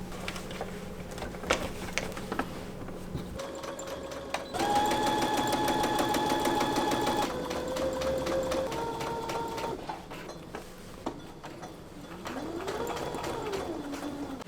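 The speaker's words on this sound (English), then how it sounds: "we're gonna stitch through all the layers down to this marking here" A home sewing machine stitches through several layers of fabric on a fly front, running in bursts of rapid mechanical whirring and clatter with brief pauses, close up and without talk.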